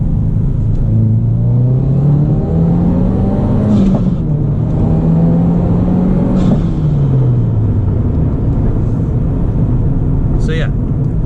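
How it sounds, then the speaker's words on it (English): A 2022 Subaru WRX is being driven, its turbo and intake induction noise rising and falling as a steady engine drone, heard loud from inside the car. "You can hear the turbo with the intake very well, and the induction noise is always nice to hear."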